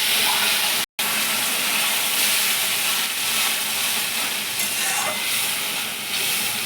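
A paste of mustard and poppy seed hits hot oil over fried onion and tomato for a pabda fish curry, giving a steady, close sizzle with a brief stirring scrape and no voices.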